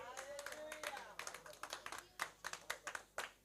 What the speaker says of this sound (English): can we just give God a good clap there?